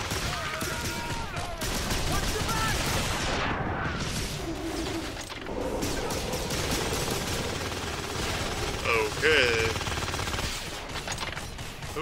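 Sustained gunfire during a fight in The Darkness, a dense stream of shots running through the whole stretch with some mechanical clatter and a few sharper cracks, loud and close.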